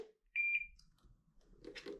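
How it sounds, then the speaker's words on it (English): An Inogen G5 portable oxygen concentrator battery latches onto the unit, giving a soft click and a single short, clear electronic confirmation beep, followed by faint handling noise in a quiet room. "We're going to hear the latch of the battery and the machine clasp together and a little audible beep to let us know that it is connected securely"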